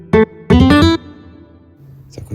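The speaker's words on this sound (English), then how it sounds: "It's acoustic guitar" Acoustic guitar plays a short chord progression in a beat-making session: a quick plucked chord, then a few rapid strums, ringing loud and close before fading to near quiet.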